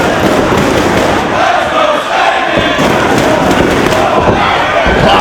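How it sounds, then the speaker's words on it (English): Dense, roaring wrestling crowd at a live Ring of Honor show in Woodbridge, Connecticut, a steady loud wall of cheering and shouting voices with scattered thuds from the ring underneath. "What a fantastic crowd we've had in Woodbridge, Connecticut."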